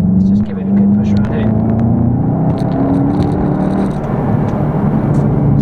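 A front-wheel-drive car, priced around £28,000, is driven hard, with a loud sustained engine drone and a rising and falling pitch as it is pushed through corners, with road and tyre noise underneath.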